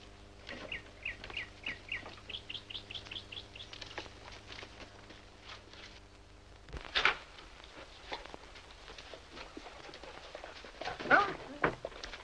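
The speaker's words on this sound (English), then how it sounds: "Look at Mr. Dog. No manners" A dog gives a few barks and whimpers close by, mixed with repeated bird chirps in the background and brief moments of nearby human sound.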